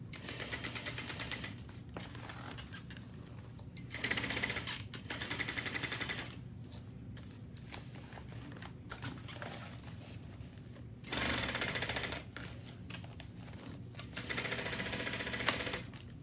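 A sewing machine stitches a seam on a business bag in several bursts, a close, steady mechanical whir and needle patter that pauses briefly between runs and speeds up at times.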